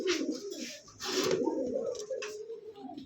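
A yellow pair of Kormona pigeons cooing at close range in a short, low, rolling warble, with brief rustling bursts between the coos.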